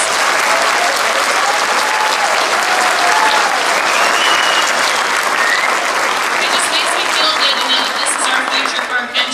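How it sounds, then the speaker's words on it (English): A loud, sustained round of audience applause for fourth graders at a school patriotic program, a thick wash of clapping from a large crowd that holds steady for the full stretch. "one more big round of applause"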